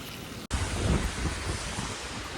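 Strong wind roars and buffets the microphone in a constant, heavy rush, with a brief dropout near the start.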